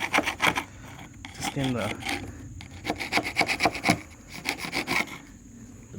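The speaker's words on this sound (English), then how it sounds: "So I'm just going over with a putty knife here" A putty knife scrapes repeatedly across the hull of a 14 ft V-hull boat during a modification job, giving close, rhythmic rasping strokes, with a brief stretch of talk partway through.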